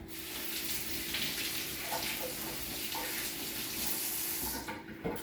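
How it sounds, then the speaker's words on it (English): Water from a kitchen tap runs steadily over two shallots being rinsed, a continuous close splashing hiss that holds for a few seconds with no talking. "I'm gonna rinse these 2 shallots off."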